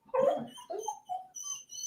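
A dog close by lets out a rough bark followed by a string of short whimpers and whiny yips, broken into several distinct bursts with brief pauses between them.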